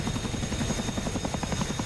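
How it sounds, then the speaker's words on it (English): A helicopter flies in a Cold War combat flight simulator game, its rotor giving a steady, rapid thudding chop with a constant engine whine above it. The sound is continuous and fairly loud, with no talk. "enemy helicopter"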